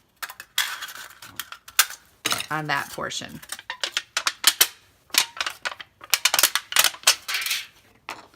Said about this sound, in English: you can actually use a scissors